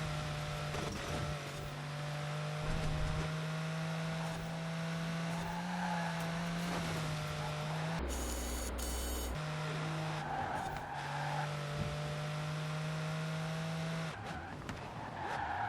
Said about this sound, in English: I really like the sound of this Pagani